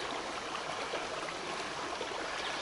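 Forest streams run full after heavy downpours, a steady broadband rush of flowing water, close and continuous with no voices.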